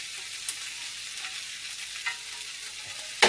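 Vegan Italian sausage links and onions frying in a skillet, a steady close sizzle with a few light clicks and a louder clatter at the end, no talk.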